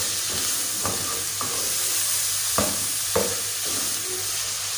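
Beef frying in a pan with ginger garlic paste, a continuous hissing sizzle broken by several distinct scraping stirs at irregular intervals, close and fairly loud, with no speech.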